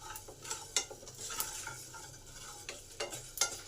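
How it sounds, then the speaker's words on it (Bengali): Spices dry-roast in a pan with bursts of sharp crackling and popping, while a spoon scrapes and stirs them at close range. "এই যে চড়বড় করে আওয়াজ হচ্ছে, এটাতেই বুঝে নিতে হবে মশলাগুলো আমার ভাজা হয়ে গেছে"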